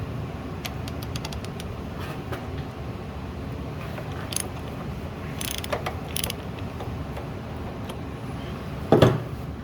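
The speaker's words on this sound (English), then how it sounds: "we're gonna remove this bolt. I'm gonna try to do it with extension, so you can see we're using an 18 millimeter socket." An 18 mm socket on an extension is ratcheted to loosen a bolt while replacing the crank position sensor on a 2010 Chevy Malibu 3.6. Rapid close clicking comes in short bursts, with a louder clunk near the end.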